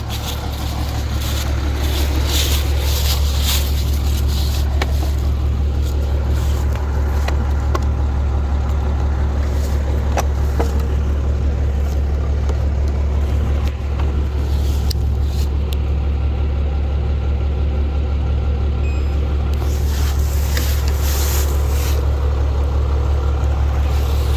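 A 5.9 Cummins diesel engine on a jump box comes up to speed over the first couple of seconds. It then runs at a loud, steady idle, a deep, continuous rumble close by, with faint clatter on top and no speech.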